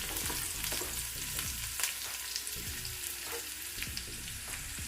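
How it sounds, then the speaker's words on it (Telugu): Chopped onions fry in a pan for a veg dum biryani, giving a steady close sizzle with light spatula scrapes and occasional crackles and no voices. "ఈ ఉల్లిపాయలు కొంచెం ఆఫ్గా కుక్ అయ్యే వరకు ఉడికించుకోవాలి."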